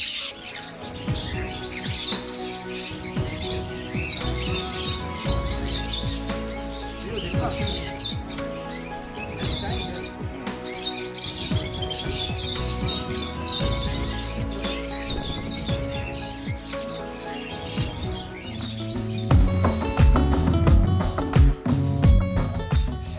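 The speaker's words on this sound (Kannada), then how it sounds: "ಎಲ್ಲ ಪಕ್ಷಿಗಳು ನನ್ನ ಮೇಲೇನೆ ಇದೆ." Birds chirp and call continuously at an animal sanctuary for rescued animals in Bangalore, a dense busy chorus of small-bird tweets mixed with louder squawks, with a low rumble and more crowded calling toward the end.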